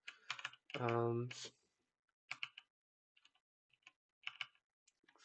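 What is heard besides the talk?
typing on a computer keyboard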